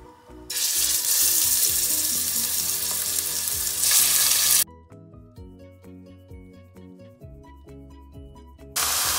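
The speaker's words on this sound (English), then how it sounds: "the flame is going to be on the high side so that it gives the meat a nice sear" Steak sears in canola oil in an open pan over a high flame, giving a loud, close, steady sizzle that cuts off abruptly midway, leaving quieter clinks and background sound before the sizzle returns at the end.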